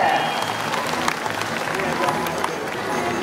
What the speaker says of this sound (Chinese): 掌声给红队鼓励一下